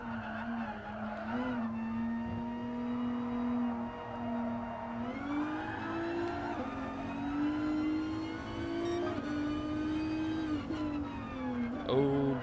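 A Nissan GT-R Cup race car in Gran Turismo Sport drones at high revs in a steady, buzzing engine note that rises and dips through gear changes across a lap, with a brief tire squeal near the end.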